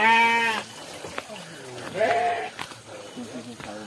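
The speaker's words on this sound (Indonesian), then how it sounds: "Ini ternaknya nih, domba-domba Garut" Garut sheep bleat several times, loud and close, in wavering calls spread across the moment, with people talking nearby.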